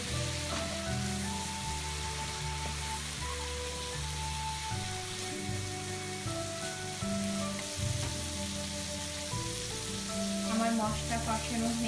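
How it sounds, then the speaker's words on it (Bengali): Chili and cumin powder spices are stirred and fried in a pan for a koi fish curry with cucumber, a continuous close sizzle under steady background music. "সব মশলা এক একটু ভালোভাবে মিক্স করে আমাকে একটু সময় নিয়ে কষাতে"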